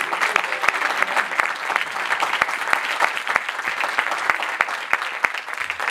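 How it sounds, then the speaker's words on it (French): Audience at an employment forum applauds, a sustained crowd clapping with several sharp individual claps standing out in an irregular rhythm throughout. "vous l'applaudissiez"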